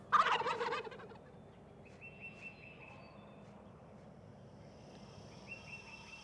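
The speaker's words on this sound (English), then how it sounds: "The eastern wild turkey is the most widespread." An eastern wild turkey gobbles once, a loud rattling burst right at the start, then quieter bird calls and faint chirps continue over low background ambience.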